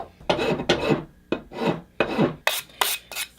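A hand rasp files an axe handle in repeated strokes, about eight rough scraping passes with brief pauses between, close and clear, the last few quicker and brighter.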